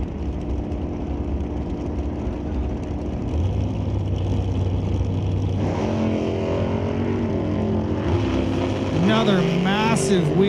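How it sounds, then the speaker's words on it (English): Drag race cars launching at Mission Raceway Park, with a Malibu wagon pulling a wheelie, build from steady distant engine drone to a loud rising roar as they accelerate away; an announcer talks over the engines. "Another massive wheelie by Craig Johnson."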